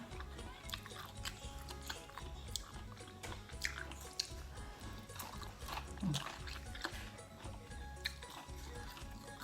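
Someone eats a crunchy, spicy Thai salad of instant noodles and mixed seafood, with irregular crisp bites and chewing close up under a steady low background hum.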